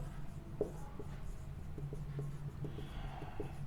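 Chalk or a marker moves across a board in a classroom during a statistics lesson. The faint, intermittent tapping and scratching strokes sit over a steady low hum, and there is no talk.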